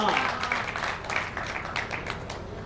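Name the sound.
audience applause for a poem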